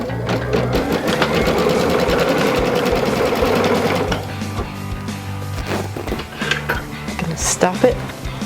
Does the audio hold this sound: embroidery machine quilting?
yes